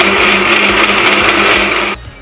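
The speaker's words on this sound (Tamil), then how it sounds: "இன்னும் கொஞ்சம் தண்ணி ஊற்றி நல்லா அரைச்சிக்கலாம்" A mixer grinder whirs loudly and continuously as it grinds gooseberries with water, then cuts off abruptly near the end, leaving a low hum.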